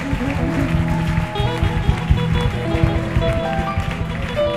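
A church congregation applauds and acclaims during an evening service, a dense rumble of clapping mixed with crowd voices and sustained organ or music tones underneath, continuous and fairly loud.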